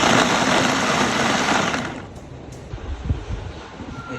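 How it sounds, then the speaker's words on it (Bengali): Electric blender whirring through a natural protein drink, a loud steady high-pitched motor whine for about two seconds before it winds down, leaving faint clatter and handling noise. "আসলে এটা আমরা ব্লেন্ড করে দিই।"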